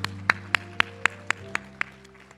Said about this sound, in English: Oak City, please give our visitors a round of applause